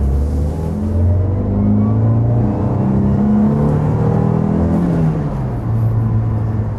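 A 2018 Toyota Rush TRD Sportivo with a manual gearbox accelerates in second gear, its engine drone rising steadily and loud and close from inside the cabin, with little else heard.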